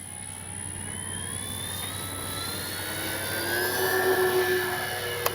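A Flightline P-38 1600 mm RC model airplane takes off, its electric motors whining steadily with a rising pitch that swells louder toward the end, heard alone without talk.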